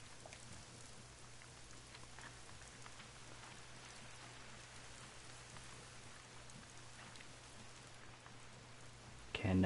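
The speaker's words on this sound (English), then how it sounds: "And it's raining." Rain falls steadily in the hunting game theHunter: Call of the Wild, a constant even patter of drops on surfaces with no talk, ending in a brief louder bump.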